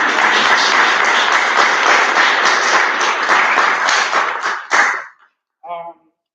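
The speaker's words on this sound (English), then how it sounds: "let's give a round of applause for them" Audience applause at a poetry event in a church, a full round of steady clapping that fades out after about five seconds, followed by a short spoken phrase.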